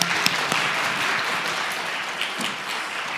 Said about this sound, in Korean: 우리 서로 박수하겠습니다